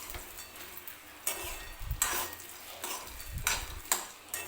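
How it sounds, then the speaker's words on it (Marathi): Cumin seeds, peanuts and garlic being dry-roasted in a pan for Solapuri peanut chutney, with a spoon stirring and scraping in short bursts over a soft, steady sizzle, close and fairly quiet. "मी छान असं जिरं वगैरे आणि शेंगदाणे लसूण याच्यामध्ये व्यवस्थित भाजून घेतलेलं आहे"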